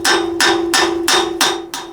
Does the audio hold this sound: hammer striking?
yes